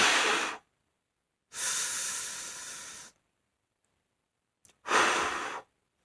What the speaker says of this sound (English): a forced breathing out in form of a whoosh